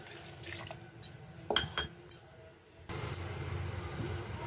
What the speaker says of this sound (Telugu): కొంచెం నీళ్లు పోసుకుంటున్నాను.